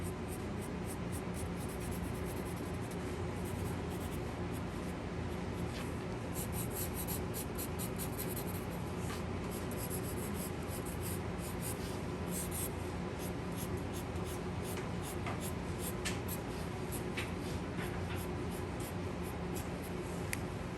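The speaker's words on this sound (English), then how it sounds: "And that is my cross hatching." Marker cross hatching on paper to fill in a dark shadowed area of a value sphere: steady, close scratchy strokes in quick repeated bursts throughout, with no talking.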